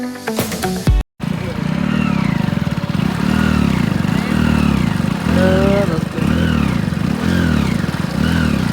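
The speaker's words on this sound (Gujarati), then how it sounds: "તો જો આમ જેમ બાઇક ફસાઈ રહી છે." A motorcycle stuck on a rough patch revs hard again and again in loud, pulsing surges close by, the engine note rising and falling repeatedly after a short opening clatter.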